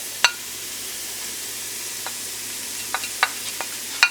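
Already cooked potatoes and bacon warm in a pan with a soft, even sizzle, broken by a few sharp clicks and scrapes of a utensil against the pan.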